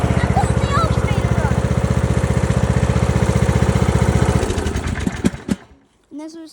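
A small tractor engine chugs loudly and close in a steady, fast rhythm for several seconds, then sputters, knocks and dies away into quiet, followed by a faint brief sound at the end.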